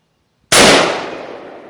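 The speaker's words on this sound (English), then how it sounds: "the second shot will be the NATO green tip XM85 or XM855" A single rifle shot of a 5.56 NATO green tip XM855 round, one loud sharp crack that starts abruptly after brief silence and decays over about a second.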